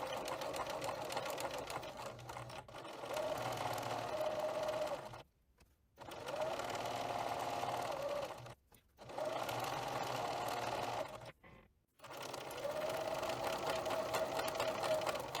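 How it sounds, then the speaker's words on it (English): A sewing machine chain piecing quilt fabric without lifting the presser foot, a steady close mechanical whirr running in long bursts broken by brief silent pauses, with no talk. "simply begin to stitch all the pieces without even lifting the presser foot"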